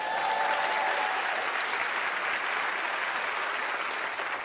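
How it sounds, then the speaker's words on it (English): A theater audience applauds loudly as Penn and Teller walk onto the stage of a magic show, a thick, sustained roar of clapping with a faint tone briefly audible early on. "a round of applause for Penn and Teller as they join me on stage"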